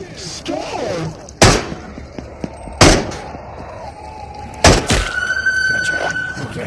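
Three sharp, loud gunshots from the VR shooter game Into the Radius, spaced a couple of seconds apart over quieter background rustle and faint clatter, with a thin ringing tone lingering after the last shot.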